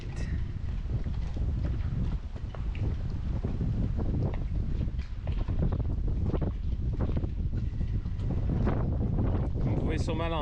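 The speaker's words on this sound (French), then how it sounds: "Vous pouvez sûrement l'entendre, il vente un peu" Steady wind buffets the microphone in a continuous low roar that lasts the whole time, with faint muffled voices and water sounds beneath it, beside a sailboat at the water's edge.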